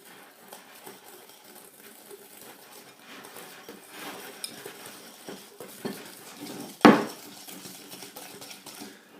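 A utensil scrapes and clinks against a bowl as vanilla sugar is stirred into butter, soft, uneven scraping that builds to one sharp clatter near the end.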